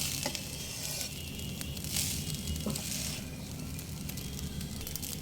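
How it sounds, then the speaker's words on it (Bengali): Pulao rice with salt frying in a pan over low-medium heat, a steady close sizzle with gentle stirring scrapes running throughout. "হালকা হাতে নেড়ে নেব"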